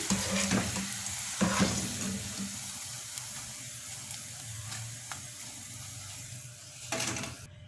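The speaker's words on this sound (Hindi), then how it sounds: "ऐसे ही हमने अपने सारे ओनियन रिंग्स जो हैं उनको फ्राई कर लेना है।" Onion rings deep-fry in hot oil with a steady crackling sizzle, near and fairly quiet, punctuated by a few sharp clinks and stirring sounds.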